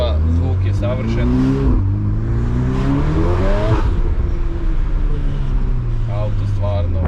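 Stage 2 tuned VW Golf 8 R accelerating with repeated rising revs, each pull ending in a burst of crackling exhaust pops, loud and close against constant road and cabin noise.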